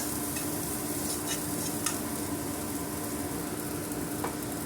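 Beaten egg stirred with a pinch of salt and a little turmeric in a small bowl: a steady, close scraping swirl that runs the whole time, with a few faint clicks of the utensil against the bowl.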